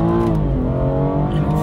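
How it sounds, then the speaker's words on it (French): BMW M240i xDrive engine pulling hard under acceleration, a steady, loud, close-up drone with rising harmonics heard from inside the car, with a voice talking over it. "C'est un moteur, comme vous pouvez l'entendre, c'est vraiment un moteur fou."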